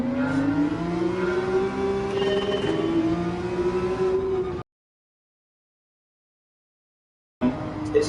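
A race car engine in Gran Turismo 7 at Autopolis on low-grip tyres holds a sustained, rising whine for several seconds, cuts to total silence, then briefly returns at the end.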